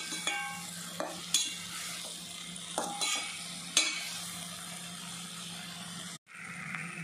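Bhindi masala fries in a pan as okra and spices are stirred, with periodic scraping strokes of the spatula over a continuous soft sizzle, close and moderately quiet, briefly cut near the end.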